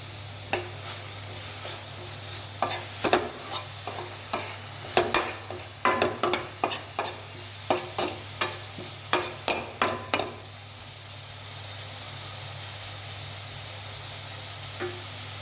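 Onion, carrot and green chili sauté in a pan for masala dosa filling: a spatula scrapes and stirs in a quick, uneven rhythm of about fifteen strokes over a steady sizzle and low hum, then the stirring stops and only the hiss remains.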